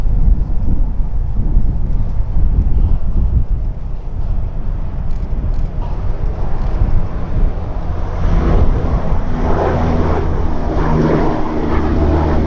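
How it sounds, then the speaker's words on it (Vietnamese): An Antonov An-12 turboprop cargo plane taking off and retracting its landing gear: a loud, continuous propeller-engine roar with broadband rumble and wind buffeting, building in intensity toward the end, no voices. "Còn đây là góc cất cánh khác và chúng ta sẽ nhìn được rõ hơn cái thao tác là thu cái càng đáp vào bên trong bụng của chiếc máy bay."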